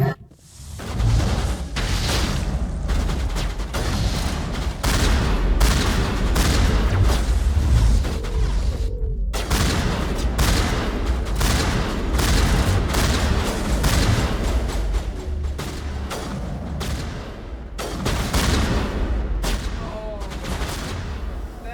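Rapid, dense energy-weapon gunfire in a Mass Effect firefight, bursts of shots and booming impacts continuing almost without pause, loud and close, with a brief break midway.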